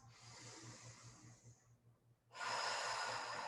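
Deep, audible breaths during exercise on a ball: a long, airy inhale, a short pause, then a stronger, louder exhale, close and without speech.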